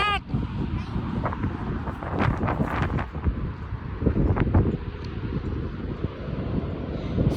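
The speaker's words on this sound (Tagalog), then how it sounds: "Freezing and windy here in Southport." Strong seaside wind in Southport, England, buffets the microphone with a loud, steady low rumble and gusty swells across the whole stretch, while a muffled voice comes through faintly underneath.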